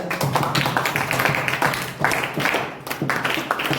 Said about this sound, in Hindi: इनके लिए एक बार जोरदार तालियां।